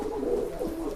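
A large Kenwood bule pigeon cooing close by, one short low throaty coo with a rolling warble.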